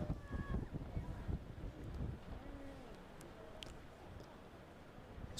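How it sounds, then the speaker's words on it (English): Strong gusting wind of around 21 mph buffets the microphone at an outdoor high school boys soccer championship match, a loud low rumble heaviest at the start, with faint distant shouts and whistle-like tones. "21-mile-an-hour winds today with a high gust of 40 miles per hour"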